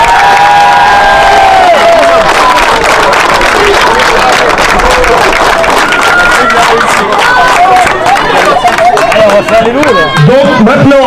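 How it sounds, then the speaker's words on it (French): A large crowd at a gala match cheers, shouts and applauds the event's volunteers, a loud, continuous wash of voices and clapping with children's shouts and talk mixed in. "Donc surtout un grand applaudissement à tous les bénévoles."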